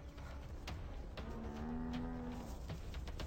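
Cattle of a herd mooing while defending against lionesses, a long drawn-out low moo rising out of a busy outdoor bed of scattered sharp knocks and movement noises, fairly faint overall.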